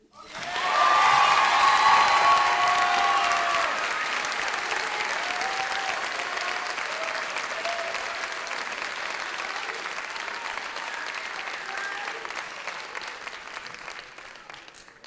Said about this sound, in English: So class of 2017, let's get ready to cheer.